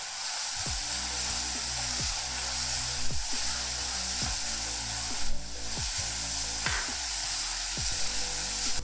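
Onion sautéing with ginger and garlic, a steady close sizzle over a low humming background, with repeated scraping and stirring clicks at irregular intervals throughout.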